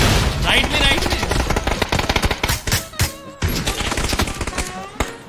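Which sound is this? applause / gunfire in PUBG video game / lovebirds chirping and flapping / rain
gunfire in PUBG video game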